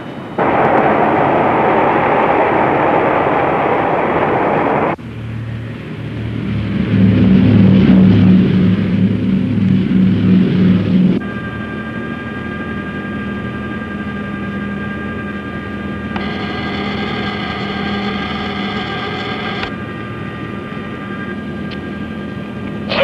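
A Learjet Model 36A jet in flight within a 1981 thriller film scene, a loud sustained engine roar and rumble with a steady whine, shifting in tone, with no talk.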